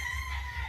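A rooster at a gamefowl farm crows in a short, strained call that carries over a steady low hum, with no voices.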